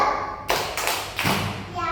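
A few loud, separate hand claps from a group of children in a classroom fall in an uneven rhythm of about three beats, each with a brief thud.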